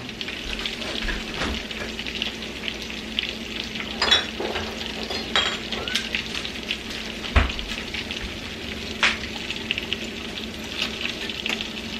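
Bacon fries in a pan on the stove beside a crock pot baked beans recipe, with a constant close sizzle and occasional clinks and scrapes of utensils against cookware, no voices.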